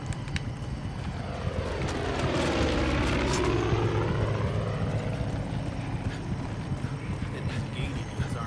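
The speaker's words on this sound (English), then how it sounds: "There's choppers in the area." Helicopters fly overhead in the video game Far Cry 5, a rotor drone swelling as one passes close and then fading back, with steady beating chop and background game noise throughout.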